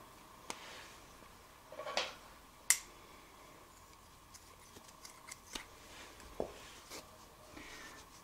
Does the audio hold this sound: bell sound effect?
no